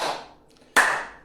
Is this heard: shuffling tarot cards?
no